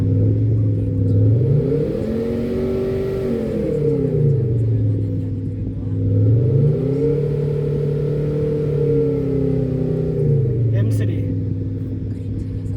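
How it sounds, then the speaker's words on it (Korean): A BMW M3's exhaust roars as the engine is revved up and down several times, loud and close, with a deep throaty drone. "BMW M3 소리입니다"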